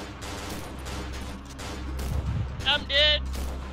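Gunfire crackles in the horror video game Cry of Fear, a run of repeated shots under excited voices talking over the action, with a sharp high-pitched game effect near the end.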